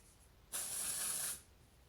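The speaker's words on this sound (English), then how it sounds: "Now I'm going to put a little dry shampoo in it." Dry shampoo sprays from an aerosol can into hair in one steady hiss of just under a second, starting and stopping cleanly against a quiet room, with no talking over it.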